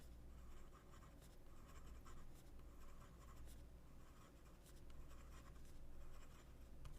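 Leonardo Momento Magico fountain pen nib writing fast on paper, a close, steady scratchy glide with slight pencil-like feedback in continuous strokes.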